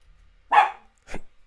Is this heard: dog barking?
yes